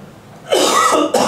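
A person coughs twice in quick succession indoors in an office, loud and close, with a short gap before the second cough.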